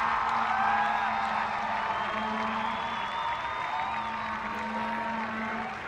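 Stadium crowd at a professional ultimate frisbee game, a steady roar of cheering and whoops sustained throughout, with a low horn-like drone underneath and no clear speech.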